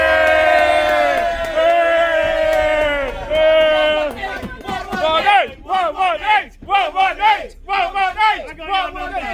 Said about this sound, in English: So let's cheer for the 118 for the last time.